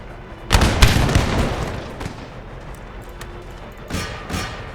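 A musket volley in Empire Total War crashes out as a dense, loud burst of overlapping gunfire, followed by scattered booms and a rumbling battlefield din with a later smaller crackle of shots.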